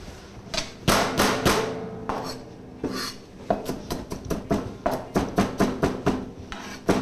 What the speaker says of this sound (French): On va hacher de l'ail